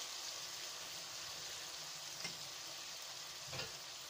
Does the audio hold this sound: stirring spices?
yes